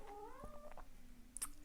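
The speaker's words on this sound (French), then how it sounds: "j'ai mon petit chat qui veut sortir" A pet cat meows insistently to be let out, one drawn-out wavering call followed by a few shorter mews, faint and close indoors with no talking.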